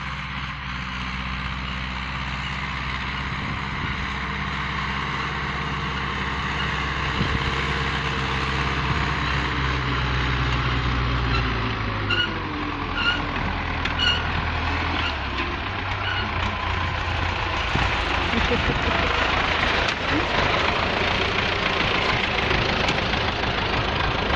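A tractor pulling a disc harrow across a field, a steady low engine drone with knocking, heard close and continuous throughout.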